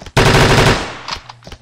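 A rapid automatic weapon burst fires in the Unity 3D first-person shooter Final Horizon, loud and dense for about half a second before trailing off into scattered quieter game noises.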